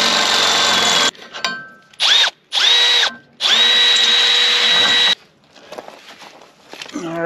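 A drill press runs on high speed to bore through steel for a trailer jack, making a loud whining spin in several bursts with starts and stops, followed by quieter scraping and handling noises.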